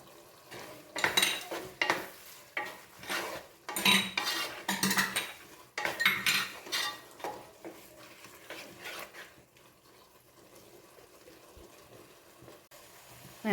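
Spices being stirred into a garlic pickle with a metal spoon, giving repeated close scraping and clinking strokes against the pot in bursts, then fading to quiet near the end.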